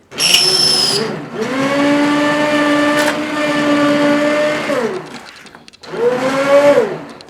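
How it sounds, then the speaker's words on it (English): A blender whirs loudly through zucchini soup in two bursts, a long steady run with a brief pitch dip, then a pause and a shorter final burst. "I'm going to tilt it, put it in, and blend."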